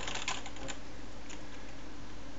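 Code being typed on a computer keyboard during a C++ programming tutorial: a quick flurry of clicky keystrokes at the start, then fainter, sparse tapping over steady background noise, with no voices.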